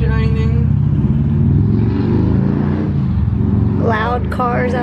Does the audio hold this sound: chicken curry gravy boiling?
no